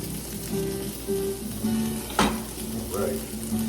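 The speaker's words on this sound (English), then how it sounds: "we're going to go ahead and get that sauteed up right now as a base" Garlic, leeks and onions sizzle and fry in a pan, a steady close crackle with occasional stirring scrapes, with no talking.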